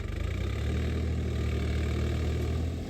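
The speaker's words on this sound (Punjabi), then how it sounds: "ਜੂਵੀ ਲੱਗਿਆ ਹੋਇਆ ਟਰੈਕਟਰ ਤੇ" A tractor engine with a puddling implement attached rumbles steadily at idle in a flooded field, a low continuous throb with a faint rhythmic pulse, close by.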